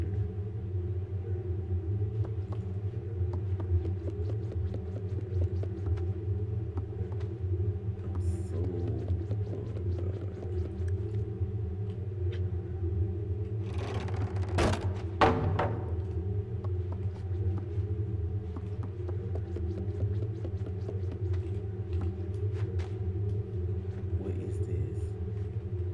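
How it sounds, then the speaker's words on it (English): Deep, steady thunder rumbles through the Little Nightmares game soundscape, a continuous low roll with a brief louder crack partway through, under faint game sounds. "I know y'all hear that thunder."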